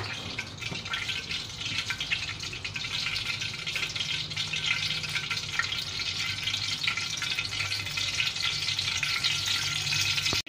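Tofu and vegetables sauté in a hot pan for a vegetable soup with beef, giving a steady close sizzle and crackle with light stirring and dripping throughout, then a sudden stop at the end.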